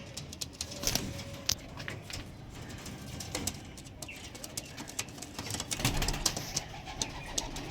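Pigeons of a Lamba breed from a loft sale coo softly amid low background noise, with scattered wing flutters and shuffling sounds, no one speaking.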